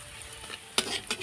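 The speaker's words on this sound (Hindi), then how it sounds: "तो हम यहाँ पे लगाते हैं नॉर्मल सा लहसुन प्याज और लाल मिर्च का तड़का" Garlic, onion and red chilli tempering sizzles in a pan, a soft steady frying hiss broken by two sharp louder crackles or stirring clatters near the end.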